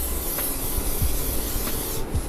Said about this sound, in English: Gonna take some olive oil, spray the pan down.